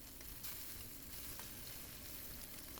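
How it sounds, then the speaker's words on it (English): Scallops pan-frying in ghee with a little oil give a steady, dense sizzle that carries on evenly throughout, close and continuous with no voices. "Pan fried them in some ghee with a little bit of oil until they got that golden crust."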